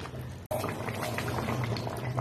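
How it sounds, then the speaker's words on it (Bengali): Aloo dum, a potato curry, bubbling steadily in a pot while it simmers, a close, continuous boiling and burbling with a brief break near the start. "এবার আরো একটু ফুটে উঠতে দেবো ভালো করে।"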